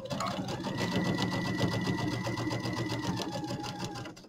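Sewing machine stitching binding on a project bag, a steady close, rapid mechanical whirr with a fast regular needle clatter, running continuously for about four seconds before easing off at the end.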